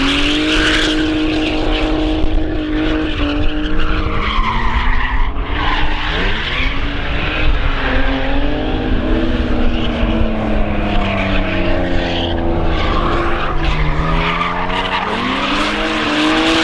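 Drift car at Crail, Scotland, revving hard with rapid, sequential-style gear changes, its engine note climbing and dropping in quick sweeps while tires squeal and skid throughout, loud and close.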